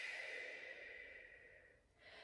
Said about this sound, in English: a double inhale through the nose and an extended exhale through the mouth